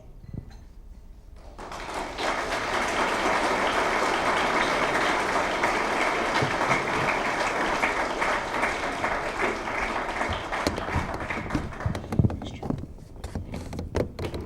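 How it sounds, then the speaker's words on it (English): An audience breaks into sustained, dense applause that swells after a quiet start and carries on steadily, with a few louder claps and cheers near the end. "a round of applause for Joe Banister, please"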